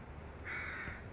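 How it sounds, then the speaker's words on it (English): A crow gives a single harsh caw in the distance, faint against quiet outdoor background noise. "There's a crow in the background."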